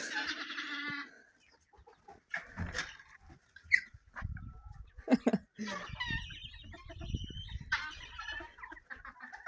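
Hens clucking and squawking in short, irregular bursts around a farmyard, with occasional rustling and thumps in between.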